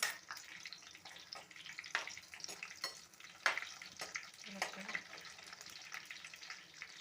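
Brinjal pieces fry in a pan, giving a soft, steady sizzle broken by sharp clicks and scrapes as they are stirred, all fairly quiet and close.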